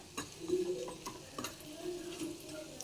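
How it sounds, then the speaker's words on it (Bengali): Fritters frying in oil make a soft, close crackle, with stirring scrapes and a few light clinks of a utensil against the pan. The sound is quiet and there is no speech. "ভাজা হয়ে গেছে এই দেখুন কি সুন্দর একটা শব্দ বের হচ্ছে"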